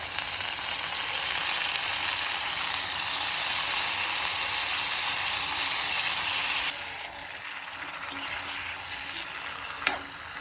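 Potatoes are dropped into hot oil with garlic and curry leaves, a loud continuous sizzle that suddenly drops to a softer frying crackle partway through, with a faint scrape near the end.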